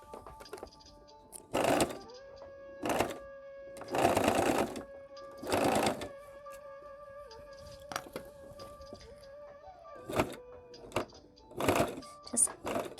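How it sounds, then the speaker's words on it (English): A sewing machine stitching binding onto a quilt runs in several short whirring bursts separated by pauses, close and fairly quiet, with a faint steady tone beneath. "We're gonna continually sew."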